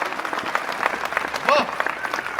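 An audience at a Hindi kavi sammelan poetry gathering in Udaipur bursts into loud, dense applause that fills the room, with a voice speaking over the clapping.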